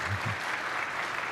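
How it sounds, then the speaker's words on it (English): Church congregation applauding their pastor: a brief, fairly soft patter of many hands clapping evenly, with a short low voice at the very start. "So give your pastor a round of applause for his leadership,"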